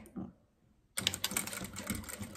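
A sewing machine stitches a zipper onto fabric for a small zippered toiletry bag with a front pocket, starting suddenly after a quiet moment and running as a steady close whirring buzz.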